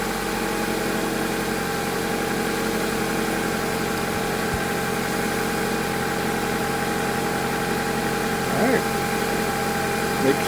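A rebuilt Honda F23A1 car engine idles steadily and smoothly with an even, continuous hum and no breaks, close by and alone.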